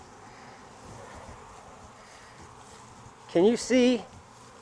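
Bees humming around a beehive at a Florida apiary in late season, a soft continuous drone under wind noise, with someone speaking briefly near the end.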